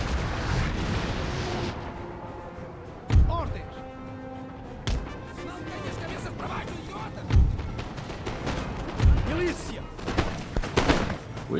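Musket volleys and artillery fire in a Napoleon Total War online battle, a steady rumble of distant fusillade broken by several loud booming thuds, with voices talking over it.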